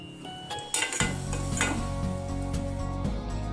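Sugar syrup boils in a pan for kaju katli, with a steady bubbling hiss under occasional clinks and scrapes of a spoon against the metal pan, close and continuous.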